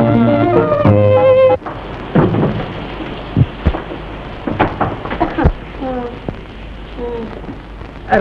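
Rain and thunder in a 1953 Hindi film scene, a steady hiss of rain with sharp thunder cracks and rumbles, following a few seconds of music.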